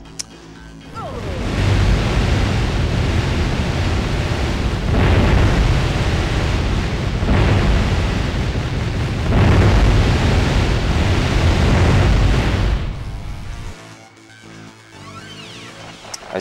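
A space station blowing apart in the PS2 video game Fur Fighters: Viggo's Revenge, a loud, sustained roar of layered explosions with repeated bursts swelling over about twelve seconds before cutting to a quieter rumbling tail.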